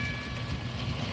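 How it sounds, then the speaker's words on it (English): A tram rolls along its rails with a continuous, fairly loud rumble and faint rhythmic clacking, heard steadily throughout with no voices. "Another tram just riding along"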